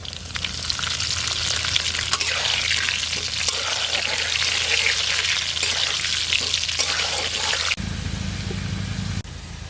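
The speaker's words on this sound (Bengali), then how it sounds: "আলুটা আমার প্রায় ভাজা হয়ে গেছে" Potatoes fry in mustard oil in a hot wok with a continuous, loud sizzle and crackle. Near the end a low hum joins in.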